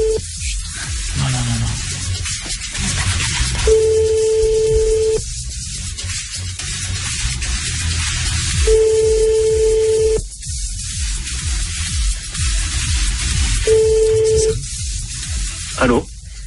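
A telephone ringing tone repeats over a radio call line, with three long steady rings at even intervals over a hissy, static-filled background.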